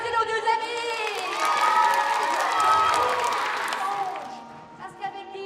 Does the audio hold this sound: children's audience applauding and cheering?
yes